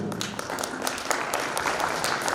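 An audience at a formal book-launch ceremony for a High Court justice breaks into sustained, dense applause, many hands clapping steadily in a hall.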